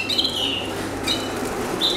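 Small birds bathing in water inside an aviary give steady fluttery wing flapping with brief chirps over a constant background hum.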